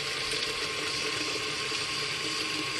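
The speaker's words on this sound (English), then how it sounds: "we're going to put some hot water on it, because hot water will absorb into the potting soil faster than cold water" Hot water pours steadily onto seed-starting potting mix, a continuous soft splashing hiss lasting the whole stretch, heard alone.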